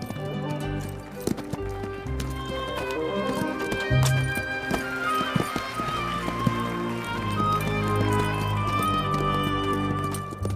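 A Kathiyawadi horse's hooves clip-clop in a steady, close rhythm, with an occasional neigh, all over a sustained tonal background.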